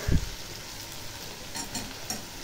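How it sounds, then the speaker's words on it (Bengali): Dried prawn shutki sizzles steadily in hot oil with onion and garlic, a continuous crackling fry with light stirring scrapes and a low thump at the start. "তারপর দিলাম শুটকি মাছটা একটু ভাজা হয়ে এসছে। এখন দিয়ে দেবো চিংড়ি শুটকি মাছ"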